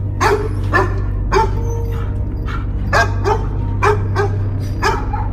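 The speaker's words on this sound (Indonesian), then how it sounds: "ada seekor anjing yang gonggongannya terdengar sangat jelas dari rumah kontrakan" A pet dog locked inside a rented house barks repeatedly at a steady pace, about a dozen sharp yaps fairly close, over a constant low hum.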